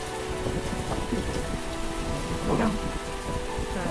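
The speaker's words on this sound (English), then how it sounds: "We're in the middle of the squall, in the middle of the Atlantic, with 40 odd knots of winds at times, and torrential rain." Torrential rain pours down during a mid-Atlantic squall aboard a sailing yacht racing across the ocean, with winds gusting past 40 knots. The hiss is dense and steady, with a low rumble beneath it and no voices.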